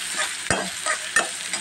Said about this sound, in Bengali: এখন আমি চিংড়ি মাছটা ঢেলে একটু ভেজে নেব।